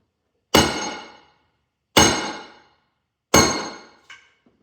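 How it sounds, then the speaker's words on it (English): A big wooden mallet strikes a wedge into an axe handle three times at an even pace, each sharp, ringing knock decaying slowly, followed by a softer small tap; no one speaks. "it's just so important to have a big wood hammer like this, so you're not just destroying your wedges"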